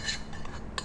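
A metal spoon scrapes against a serving dish while cooked quinoa is spooned out, two short clinking scrapes near the start and end, close and fairly quiet.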